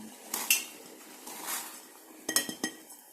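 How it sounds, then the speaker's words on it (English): Baby corns tipped into a pot of salted water on the stove, giving a few light metallic clinks and knocks in small clusters, fairly close and otherwise quiet. "In this I'm going to add these baby corns"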